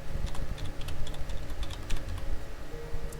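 Rapid typing on a computer keyboard while entering text into a cell, with dense, close key clicks running steadily the whole time over a low background hum.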